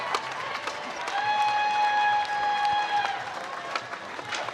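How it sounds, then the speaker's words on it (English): Scattered applause and cheers rise from the crowd at a women's skateboard park qualifier, with a sustained whistle-like tone running through the middle and an announcer talking over the crowd. "round of applause for all the ladies throwing down out there"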